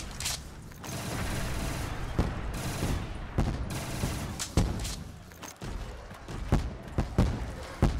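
An MP7 submachine gun firing in Call of Duty zombies, rapid loud bursts with mechanical clatter and scattered sharp impacts throughout.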